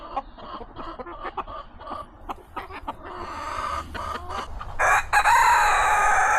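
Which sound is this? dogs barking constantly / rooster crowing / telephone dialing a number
rooster crowing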